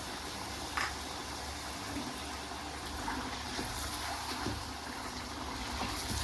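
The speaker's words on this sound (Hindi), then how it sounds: "साथ साथ में देखें हमारा चिकन फ्राई हो रहा है।" Chicken fries in a pan for Peshawar-style Charsi karahi, giving a steady close sizzle with faint bubbling and occasional soft pops, and no voice over it.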